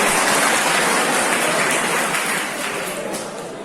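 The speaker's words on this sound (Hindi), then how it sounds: "एक बार जोरदार तालियां बजा दीजिए इसके बड़े सपनों के लिए।" A packed college seminar audience bursts into a thick, continuous wall of loud clapping. It holds steady throughout and eases only slightly toward the end.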